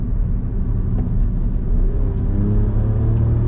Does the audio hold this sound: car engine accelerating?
yes